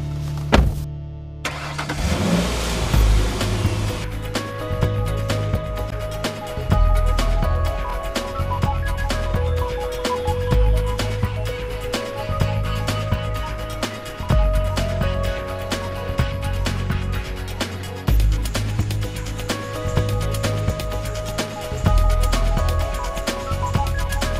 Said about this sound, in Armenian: Լսվում է շարժիչի ձայնը